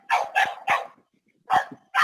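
A dog barks three times in quick succession, pauses, then barks twice more, loud and close, with no talk over it.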